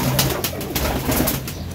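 Pigeons in a breeding loft cooing, repeated soft throaty coos over a continuous background hiss, close and fairly loud, no speech.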